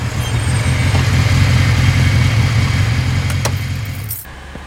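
A motorbike engine idles loud and close with a steady low throb, then cuts off near the end, followed by a brief jingle of keys.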